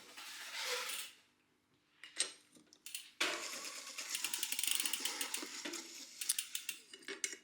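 Bike pedals being loosened with a 15mm spanner, giving scattered metallic clicks, ratcheting ticks and scrapes at close range, with a quiet gap early on and denser tool noise through the second half.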